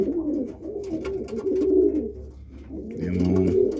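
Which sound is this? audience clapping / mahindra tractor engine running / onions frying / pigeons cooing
pigeons cooing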